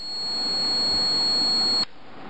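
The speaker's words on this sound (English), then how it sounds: "when I press this limit switch, this gives a beep, which indicates that this wire is connected to this wire" A continuity tester gives a steady electronic beep while a limit switch is held pressed, confirming a wire connection; the tone runs loud and unbroken for nearly two seconds, then cuts off abruptly to a quieter background.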